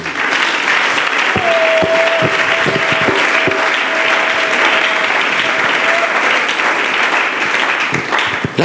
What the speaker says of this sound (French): Vos acclamations ne me plaisent pas.